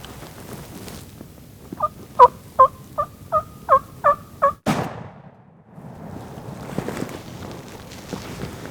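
A wild turkey longbeard, called in during a public land hunt, gobbles in a quick series of about eight loud, close, rhythmic calls, then a sharp bang cuts in, followed by quieter rustling outdoor ambience.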